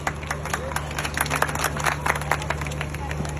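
An audience claps in scattered, uneven bursts at a gathering where a man gives a spoken address, the crowd's chatter and a low hum continuing underneath.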